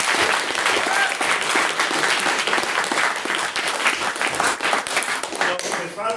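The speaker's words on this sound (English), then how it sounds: "so he does deserve another applause" A debate-hall audience applauds loudly and continuously for a speaker who has just given his maiden speech, with dense, even clapping throughout.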